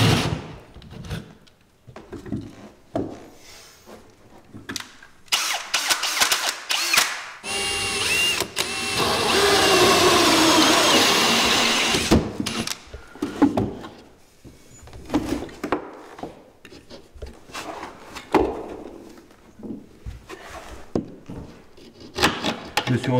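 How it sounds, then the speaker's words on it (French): A power drill bores into plasterboard to fit an electrical socket, with a sustained whirring burst in the middle among scattered knocks and handling noises on a work site. "je suis en train de percer le placo ici pour pouvoir mettre la prise"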